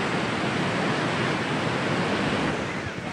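Ocean waves wash continuously onto a New Zealand hot water beach as a dense, steady roar of surf with some wind noise on the microphone, broad and loud throughout.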